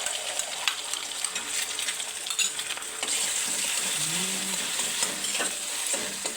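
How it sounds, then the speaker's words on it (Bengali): An egg sizzles in a pan with onions, a soft, close crackle broken by occasional scraping stirs, fairly quiet and with no talk over it. "পেঁয়াজটা একটু তুলে নিয়ে তারপর ডিমটা আমি দিয়ে দিচ্ছি।"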